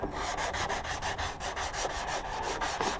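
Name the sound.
rubbing down motorcycle bodywork by hand with a pad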